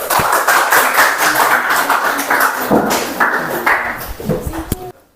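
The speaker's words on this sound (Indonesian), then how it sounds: "Boleh aplaus dulu." Classroom applause after a student group's presentation: a dense, loud patter of many hands clapping for about five seconds, with scattered taps and thumps, tapering off abruptly at the end.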